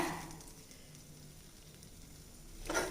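Cashews sizzling in hot ghee for sweet potato halwa, a steady soft crackle and hiss close by that holds evenly for a few seconds, with a brief louder stir of noise at the end.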